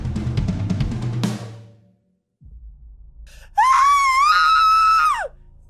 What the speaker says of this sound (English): So with Alissa, with that scream, you kind of blink and shake your head